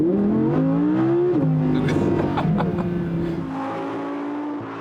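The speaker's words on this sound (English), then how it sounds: "I get even more sound from the exhaust" A 2016 Audi R8 V10 plus accelerating hard, its exhaust heard from the cabin. The loud, steady engine note climbs through the gears, dropping in pitch at each upshift, and stays strong and close the whole way.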